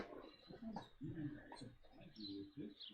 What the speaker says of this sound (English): These fucking birds.